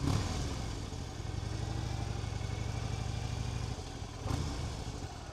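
A 2015 Harley-Davidson Fat Bob rumbles along at a steady low throb under wind noise, briefly easing off before the engine note picks back up, heard from the rider's position.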